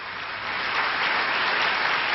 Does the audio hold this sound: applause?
yes